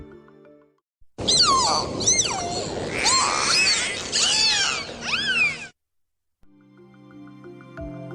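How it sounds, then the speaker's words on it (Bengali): A dolphin gives a string of rising and falling signature whistles, clear and close, repeated several times over about four seconds before cutting off to quiet. "প্রতিটি ডলফিনের নিজস্ব সিগনেচার হুইসেল থাকে যেটি প্রায় মানুষের নামের মতো যা দিয়ে তারা একে অপরকে ডাকতে পারে এই হুইসেল শুনতে খানিকটা এমন"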